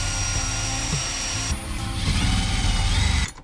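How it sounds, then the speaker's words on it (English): A power drill bores holes through plywood while a 20L Kings fridge is installed in an N80 Hilux, a loud whirring grind that changes pitch midway and stops abruptly at the end. "I'm going to drill the holes that are going to go through the actual plywood when it's bolted in."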